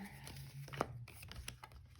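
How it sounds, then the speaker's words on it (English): A tarot card deck shuffled by hand before being put away, soft papery flicks and rustles close by, with a faint low hum underneath. "I like to shuffle mine before I put them away"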